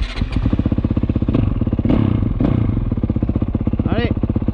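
Close-up motorcycle engine fitted with a Rekluse Radius CX automatic clutch, running with a steady, rapid putter throughout, loud and even, with a brief higher mechanical whine near the end.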